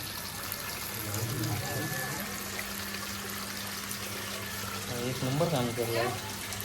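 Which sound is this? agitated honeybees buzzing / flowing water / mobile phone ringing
flowing water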